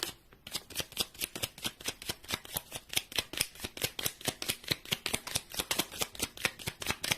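Playing cards shuffled by hand in a steady riffle, a rapid run of close, crisp, evenly spaced flicks and snaps continuing throughout with no talking.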